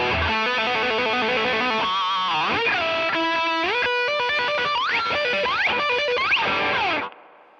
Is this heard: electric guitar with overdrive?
yes